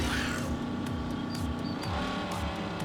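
Turbocharged racing car in a video game: a steady engine drone with rising and falling revs throughout, fairly quiet, with faint high whistles like turbo spooling and no speech.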